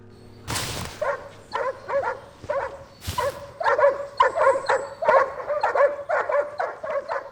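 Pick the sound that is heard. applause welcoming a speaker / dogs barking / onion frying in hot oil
dogs barking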